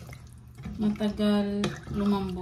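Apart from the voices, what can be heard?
water being poured into a cooking pot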